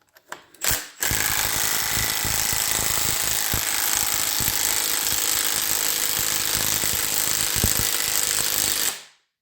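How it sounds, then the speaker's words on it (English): Cordless 3/8 stubby impact wrench running on a half-dead battery, a sustained loud rattling hammer for about eight seconds after a few short starting bursts, then cutting off, no talk. "I'm using a 3/8 stubby here with a battery that's half dead"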